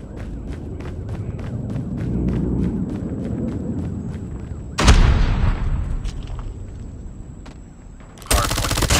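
Rapid gunfire from a Call of Duty Mobile strafe run in a ranked Hardpoint match, a steady stream of shots with a loud burst midway and another sharp burst near the end, no talk.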